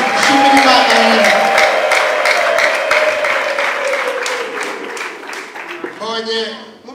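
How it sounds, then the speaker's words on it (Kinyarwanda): A church congregation claps steadily for several seconds, the applause running under a loud amplified voice. "twongere dukomere Imana amashyi"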